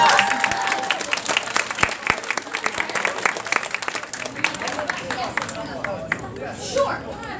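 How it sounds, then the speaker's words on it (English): Audience applause for game contestants at a convention Q&A dating game, a steady burst of many hands clapping with crowd murmur, fading out toward the end. "give them a round of applause"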